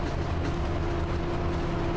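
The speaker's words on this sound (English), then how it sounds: "The other train passed next to me." Another train rushes past in the video game Train Driver 2, a dense steady roar of rumbling wheels and engine drone, loud and close throughout.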